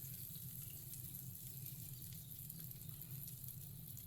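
Waffle batter sizzles steadily in a hot waffle iron, a quiet, continuous hiss with a low rumble beneath and no pauses throughout.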